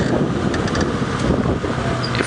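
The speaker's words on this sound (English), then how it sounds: "it's become very, very windy." Strong wind buffeting the microphone of an open vehicle on an evening safari drive, a constant loud roaring rumble with no pauses across the whole stretch.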